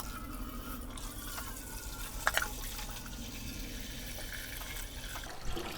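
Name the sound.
tap water filling ultrasonic cleaner tank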